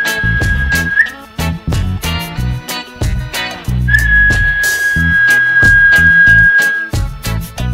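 A short whistle, then a long sustained whistled note held for a few seconds over a loud, rhythmic, punchy beat.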